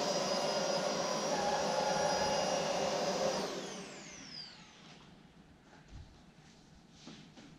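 A Roidmi 2-in-1 stick vacuum with a soft roller brush whines loudly on carpet for a few seconds, then its motor winds down and fades out, leaving quiet rustling and faint bumps.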